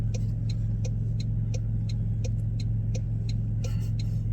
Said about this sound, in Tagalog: Traffic din pala.